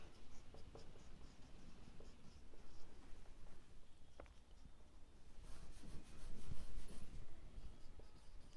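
Pen or marker scratching continuously across a board or paper during a maths lesson on trapezium area, steady quiet strokes with faint taps and no talking.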